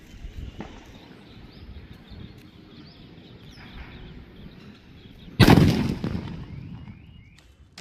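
A half-kilo paper bomb firecracker goes off at Diwali: a single loud, close blast cuts through quiet outdoor background, then rumbles and fades over a couple of seconds.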